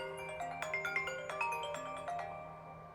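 A phone rings with an incoming Wi-Fi call, a bright melodic ringtone of repeated chiming notes that plays steadily, fairly close and moderately loud, with no talking.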